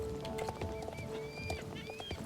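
Horse hooves running in the Star Stable video game, a steady patter of quick footfalls under a background of game music with sustained tones and light melodic swoops, moderately quiet throughout.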